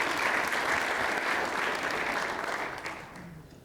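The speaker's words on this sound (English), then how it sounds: "A round of applause for our student athletes." An audience applauds for student athletes, a steady wash of clapping that holds for a few seconds and then begins to fade.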